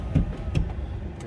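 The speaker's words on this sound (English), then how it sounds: "It just kind of bundles itself up, rolls back up the windows." Electric power windows on a Porsche 997.1 Carrera 4S closing back up, a soft low motor whir with a couple of brief thumps as the glass seats, heard close inside the cabin with no talk.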